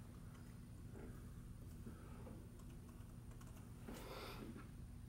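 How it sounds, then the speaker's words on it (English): Password being typed on a computer keyboard, a quiet run of soft key taps with a louder burst near the end over a steady background hum. "And then I'm going to key in my password."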